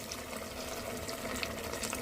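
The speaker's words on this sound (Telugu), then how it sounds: "కొంచెం వాటర్ అయితే వేసుకుందాం" A splashing rush of water runs steadily into a cooking pot of tamarind-flavoured boti curry for a couple of seconds, close and fairly quiet.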